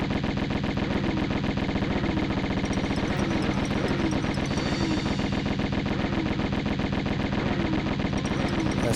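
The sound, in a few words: Uzi gunfire in Tomb Raider video game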